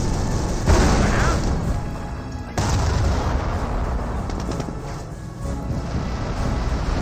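A Calliope rocket artillery barrage in Company of Heroes pounds the battlefield, a loud rolling run of deep booms and crackling blasts that overlap continuously with no talking.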